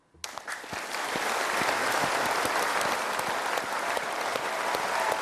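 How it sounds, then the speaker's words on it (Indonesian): A uniformed group claps in unison on a drill command, starting abruptly after a brief quiet moment and then holding a loud, steady wash of many hands to the end. "Tepuk tangan."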